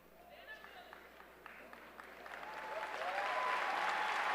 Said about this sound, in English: Please join me in giving these educators a round of applause